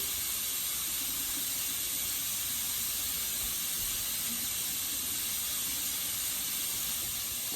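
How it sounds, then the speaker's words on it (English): Tap water runs steadily to wash a kitchen knife and cutting board, giving a loud, continuous hiss that stays close and unbroken throughout, with no one talking. "you just have to wash the knife off"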